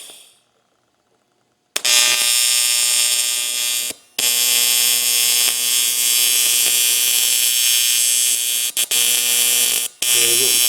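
An ArcCaptain TIG200P TIG welder fuses metal without filler, giving a loud, steady electric buzz that runs for several seconds and cuts out briefly a few times.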